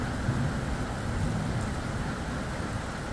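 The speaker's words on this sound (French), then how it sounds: "C'est les storms violents de la Drôme." Violent thunderstorm in the Drôme, with heavy rain pouring down steadily and a deep low rumble of thunder running underneath, loud and continuous throughout with no voices.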